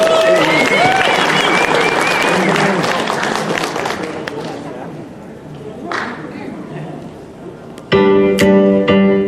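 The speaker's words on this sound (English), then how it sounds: "And a big hand for Amy." Convention audience applauding at a guest-of-honor script reading, a loud burst of many hands clapping that fades out over several seconds before a short electronic musical chime sounds.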